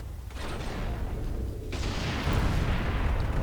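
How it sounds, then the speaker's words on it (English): A plasma cannon in Warhammer 40k Space Marine fires with a dense, roaring blast, and a second surge of rushing noise swells partway through and keeps rumbling loudly. "And that was a plasma cannon."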